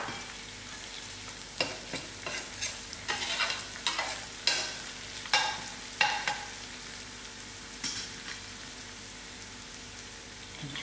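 Curry leaves, chilies and garlic fry in a pan with browned onions, giving a steady close sizzle broken by repeated sharp crackling bursts as they are stirred.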